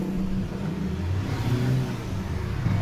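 Ford Everest engine with a low-power fault, revving with sluggish pick-up, a steady droning mid-range engine hum held close and fairly even throughout, with no voices.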